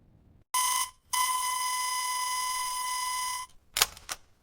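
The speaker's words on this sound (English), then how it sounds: "My alarm goes off at 6 a.m." An alarm clock rings loud and close in a shrill electronic tone: a short burst, a brief gap, then a long sustained ring, ending with a couple of clicks as it is switched off.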